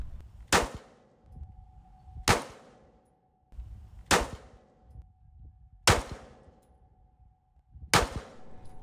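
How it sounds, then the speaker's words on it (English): Five pistol shots are fired from a Ransom Rest at a range. Each is a sharp, loud crack with a ringing tail, and they come at fairly even intervals of about two seconds. "then it's really easy to shoot your 5 rounds"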